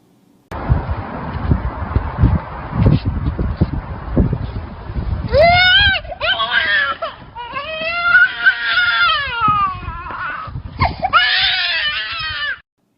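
A young child running from their own shadow screams, starting with noisy rustling and then breaking into shrill, wavering wails and cries that rise and fall.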